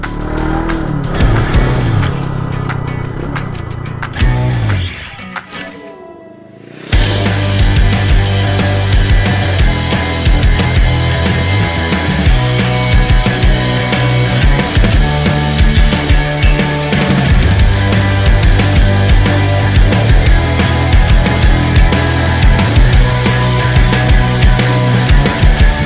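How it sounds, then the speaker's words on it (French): A 2020 Brixton Crossfire 500 motorcycle engine runs loud and close while riding, a continuous dense drone that briefly drops away around a gear change, then resumes with steady, pulsing throttle. "j'aime bien la sonorité du moteur, petit pétarade gaiement"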